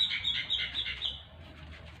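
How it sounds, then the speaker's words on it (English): Small birds chirp and tweet in a quick, repeated, fairly close run of calls that fades after about a second, leaving a quiet background. "the dear birds are still tweeting here"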